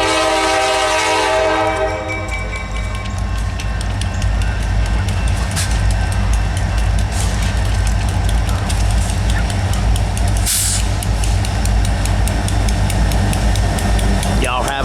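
Wheeling and Lake Erie tank train led by SD40T-2 tunnel motors and an SD40 crossing the diamond at Brewster: a loud horn blast opens, then a steady, close engine rumble and rolling wheel noise carry on throughout.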